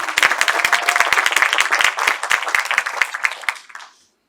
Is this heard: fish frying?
no